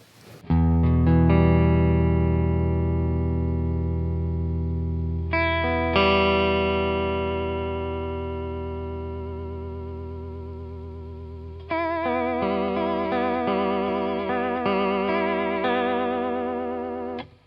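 Electric guitar run through a vibrato pedal, a Boss VB-2 or Behringer Ultra Vibrato, set to a fast rate and high depth. Sustained chords ring out with a rapid warbling pitch wobble and are restruck a few times.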